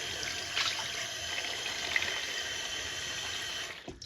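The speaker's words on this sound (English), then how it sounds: "I'll get the water going." Water from a tap runs steadily into a sink while makeup brushes are being washed, a continuous close hiss lasting several seconds before it cuts off abruptly.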